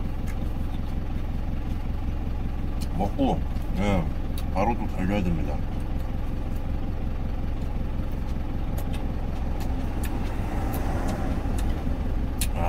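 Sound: truck engine left idling during a stop

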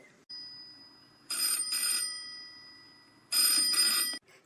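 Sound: telephone ringing

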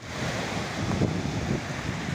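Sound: sea waves on a beach

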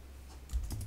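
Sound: typing on a computer keyboard

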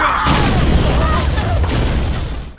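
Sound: explosion in the Attack on Titan film

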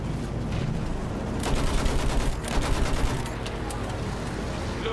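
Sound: machine gun fire in video game Battlefield 1

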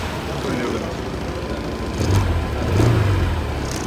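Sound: Honda ADV150 motorcycle engine started and revving

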